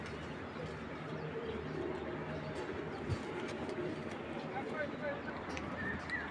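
A racing pigeon raced over 250 km coos softly amid a steady wash of broadband background noise, with no clear voices.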